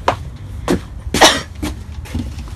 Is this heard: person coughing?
yes